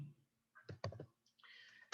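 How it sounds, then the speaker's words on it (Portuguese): A few quick, close clicks in a quiet room, like a mouse button pressed twice, with faint rustling around them. "Eu acho que eu cliquei na tela aqui."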